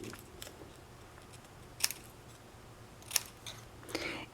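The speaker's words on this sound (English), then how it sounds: "I cut all my petal. Just go in V like this." Scissors make three quiet, crisp snips spaced a second or so apart, cutting paper petals into V shapes for a card-decorated tote bag.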